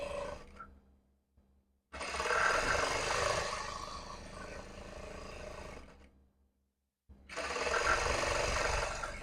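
A sewing machine stitches a salwar in two bursts of steady, rapid whirring, each running several seconds with a quiet pause between, close by and moderately loud.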